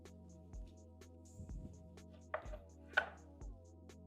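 A knife chops through ribs on a board in a few sharp separate thuds spread over a few seconds, close and fairly quiet against a low background hum.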